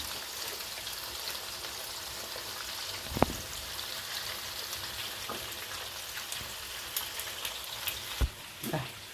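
Pieces of wallago catfish (pla khao) fry in hot oil until crisp and golden, giving a continuous hissing sizzle with a few sharp pops and crackles, moderately close, with no speech.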